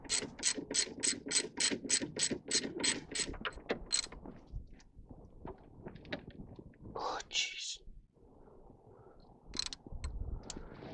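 A ratchet clicks in a fast, even run of sharp bursts on bolts of a classic Austin Mini front hub. Scattered clanks and a few later clicks follow, with soft talk in the background.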